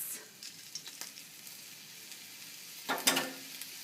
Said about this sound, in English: So now we're going to add the ground, I'm using beef, but you can use beef or lamb, to the onions.